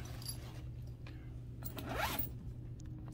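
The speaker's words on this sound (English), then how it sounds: "this zipper, it just feels heavy duty compared to that one" A heavy-duty zipper on a padded tripod case is pulled in one quick zip, close and clear against quiet background hum, with no talking.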